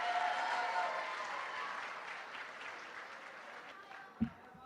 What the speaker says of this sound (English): Give it a big round of applause for these students and everything they've accomplished this semester.